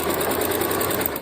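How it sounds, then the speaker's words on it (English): A Janome sewing machine stitches a quilt top with a fast, even mechanical whir and a rapid needle rhythm, running steadily at close range and slowing just before it stops. "And I have my Janome machine on top of my sewing machine case."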